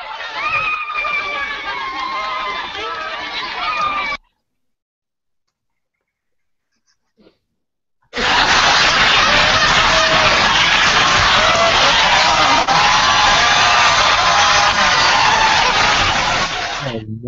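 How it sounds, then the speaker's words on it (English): A soundboard plays an audience clapping and cheering as a dense, loud wash of applause. It cuts out for a few seconds of silence, then returns louder and sustained, with voices mixed in. "It was an audience clapping and cheering."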